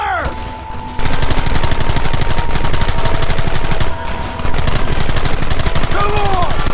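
Sustained gunfire in the Western video game Red Dead Redemption, a dense rapid volley of shots rattling continuously and loudly, with a brief lull near the start and faint background voices.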